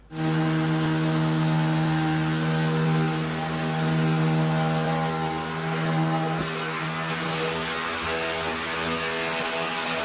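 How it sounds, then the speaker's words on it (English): A steady, loud power-tool whine with a constant droning hum runs without pause, sounding close by like a sander working on wood. "I usually use my electric sander because it's just a bit easier and faster for me."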